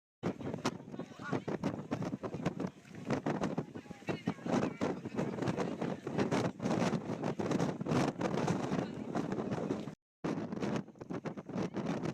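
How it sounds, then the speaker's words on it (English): Strong wind in San Francisco buffets the microphone in loud, rough gusts with a brief drop-out near the end, a person talking underneath the blustering. "It's so windy up here."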